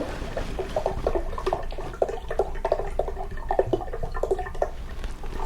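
Mountain Valley spring water is poured into a blender for an almond, apricot and peach smoothie, a steady close burbling trickle with small splashes throughout.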